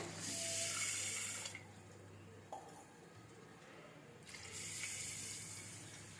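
Water is poured into a pot of rice set to soak for Dindigul mutton biryani, a rushing splash in two bursts separated by a quieter pause, close by in a kitchen.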